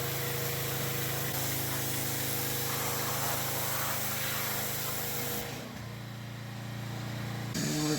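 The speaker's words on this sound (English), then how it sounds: "go in there with a pressure washer or a hose and just kind of rinse off everything inside of the pond" A hose or pressure washer rinses out the inside of a koi pond with a steady, loud hiss and spray that softens briefly before surging back.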